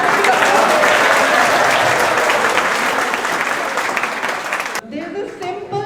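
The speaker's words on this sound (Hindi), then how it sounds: "ताली बजाने आती है सबको?" A group of children clap their hands together in a classroom clap game, a loud dense burst of applause that fades toward the end as voices and chatter take over.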